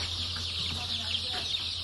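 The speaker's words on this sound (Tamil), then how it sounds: "இதுதான் எங்கட கோழி." Chickens clucking in a pen on a Sri Lankan farm house raising chicks for sale, a steady close flock murmur over a constant low hum, with no speech.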